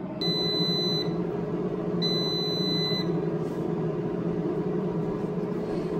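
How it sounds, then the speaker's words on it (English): An air fryer sounds its halfway alarm while cooking French fries: two long, loud electronic beeps about a second each, spaced a second apart, over the steady whir of the fan and motor. "you can hear the alarm sounding"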